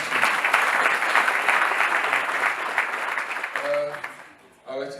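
A congregation at a church concert applauds with loud, dense clapping that tapers off over several seconds, and a voice speaks briefly as it fades.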